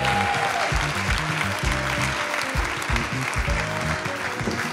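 An audience at an awards ceremony applauds steadily, a dense wash of clapping with music playing underneath.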